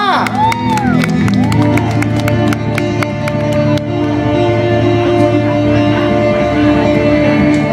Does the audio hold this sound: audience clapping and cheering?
yes